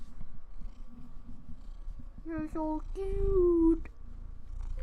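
A pet cat purring close to a microphone, a low steady rumble beneath a person's cooing voice, with a couple of short rising meow-like cries midway.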